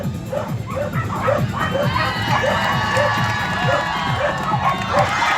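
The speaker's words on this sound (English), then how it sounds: "Let's cheer him on." A crowd cheers and shouts steadily at a SuperDogs show at the Timmins Fall Fair as a whippet performs, while a dog barks in a quick repeated rhythm throughout.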